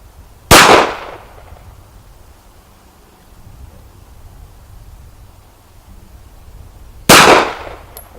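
Two sharp Glock 43 pistol shots ring out at a shooting range several seconds apart, each loud, close and cracking with a short decaying tail, and a quiet lull between them.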